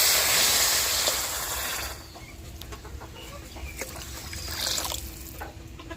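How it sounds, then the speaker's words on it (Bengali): Water poured into a pan of sugar and cracked cardamom for syrup, a close bright splashing trickle that fades after two seconds, then soft clinks and another brief pour. "2 বাটি জল দিয়ে দিচ্ছি।"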